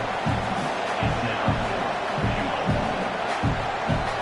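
Stadium crowd noise in a college football video game as a field goal unit takes the field: a steady roar with rhythmic swells, like chanting or stomping, under faint commentary.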